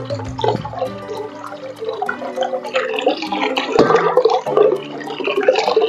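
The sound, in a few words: pouring hot water into bowl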